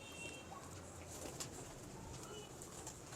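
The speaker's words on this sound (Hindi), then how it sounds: "यार ये हॉट फेवरेट कबूतर है मेरे माशाल्लाह।" Pigeon cooing from a prized pet pigeon in a loft, soft low coos over steady ambient hiss with faint chirps, with a voice nearby.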